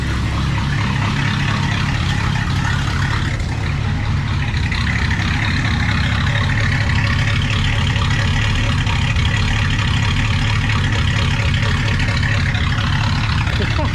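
A 1961 Cadillac 390 V8 running with no muffler through a pea shooter exhaust, a loud, steady, rough low rumble close by that carries on unbroken from start to end.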